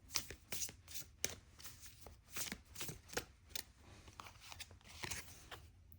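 Tarot cards being shuffled by hand, a quick series of soft riffling and snapping bursts repeating irregularly, close but quiet.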